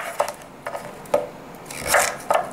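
Carrots and sweet potato are chopped roughly on a board for a sweet potato cauliflower mash, giving a few separate knife taps and scrapes, close and fairly quiet, with no talking.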